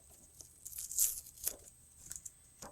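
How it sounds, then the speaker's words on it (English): Tape being peeled off a 4x6 acetate sheet at a craft table, a few short tearing rips and crinkles, close and fairly quiet. "So I'm going to take this tape off of here,"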